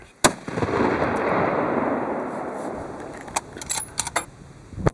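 A single sharp rifle shot cracks out during an elk hunt, a loud close blast followed by a long rolling echo and outdoor rumble, with a few faint clicks and rustles afterward.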